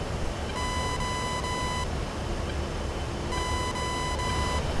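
Two bursts of repeated electronic warning beeps, steady and loud, sound from an A-10A cockpit in the combat flight simulator DCS, with a steady rumble of engine noise running underneath throughout.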